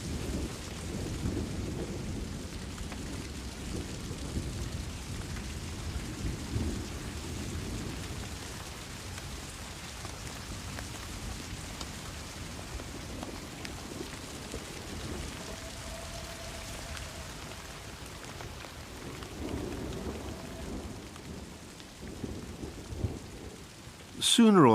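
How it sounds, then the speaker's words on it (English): Heavy rain pours steadily with a low thunder rumble underneath, continuous and enveloping throughout. "Sooner or later, the rain will stop."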